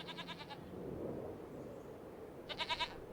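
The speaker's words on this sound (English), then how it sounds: "So I need to get another 99 goats." Goats on a farm in the game Farming Simulator 25 bleat in two short, wavering bursts, one at the start and one near the end, faint, with a quiet pause between and no talk.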